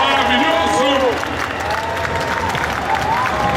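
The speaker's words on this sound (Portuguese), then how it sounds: "Palmas para todos eles!" A crowd at an anime convention stage show claps hard and cheers for the performers. The applause is loud and continuous, with voices and shouts rising over the top.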